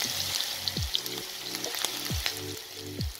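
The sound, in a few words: onions frying in a pan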